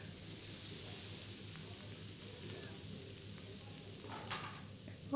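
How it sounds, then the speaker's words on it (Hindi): Mashed boiled potatoes frying in a pan for samosa filling, a soft continuous sizzle with light stirring scrapes, fairly quiet and close, ending in a brief clatter. "बॉयल आलू को मैं यहाँ पे डाल दूँगी और इसको थोड़ा सा मैश करके फ्राई करेंगे हम लोग"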